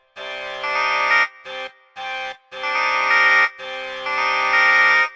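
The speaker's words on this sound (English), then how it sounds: "Next, we have this little bassoon." The FL Studio stock bassoon preset plays a short melodic phrase of held, buzzy, reedy notes with brief gaps between them, loud and close and heard alone, with no speech.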